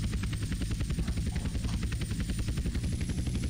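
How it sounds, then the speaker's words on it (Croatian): A helicopter in GTA San Andreas Multiplayer thumps with a steady, rapid rotor beat over a deep engine drone, loud and close throughout with no speech. "Evo me ovdje, vidiš helikopter."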